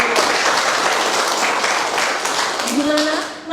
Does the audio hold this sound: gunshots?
no